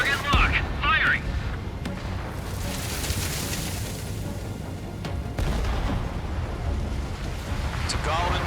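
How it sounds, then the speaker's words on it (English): Weapon fire from a fighter jet in the video game Ace Combat 7: a dense, sustained roar of shots and blasts that runs loud the whole way, with brief radio-style voices near the start and end. "Target lock, firing!"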